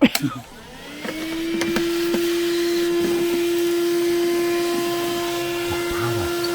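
A vacuum cleaner runs inside an Auto-Sleepers Corinium FB motorhome, a steady close motor whine holding throughout after a brief start, with occasional knocks and bumps of the nozzle against surfaces.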